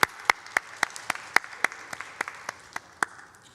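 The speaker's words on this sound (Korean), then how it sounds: "우리 샬롬과 함께 하나님께 영광의 박수 올려드립니다." Rhythmic clapping from a church congregation, about a dozen evenly spaced sharp claps in unison over a quiet room, moderately close and without voices.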